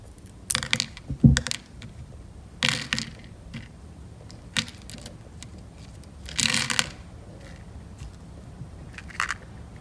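Bead packaging is snipped and crinkled open in a few brief, sharp bursts of plastic rustling and cutting, close up, with quiet pauses between.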